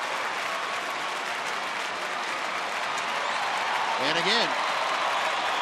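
Crowd applause and cheering fill a Rangers baseball game against the Angels with the bases loaded, a steady broad roar of the stands under a commentator's voice.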